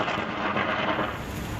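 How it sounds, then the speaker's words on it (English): Thunder rolling through a thunderstorm over the CN Tower in southern Ontario, a steady broadband rumble that fills the short stretch with no clear onset or end. "that was some intense thunder and lightning"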